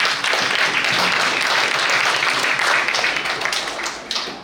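An audience at a speech event claps for guests being introduced, a loud and steady wash of applause that tapers off toward the end.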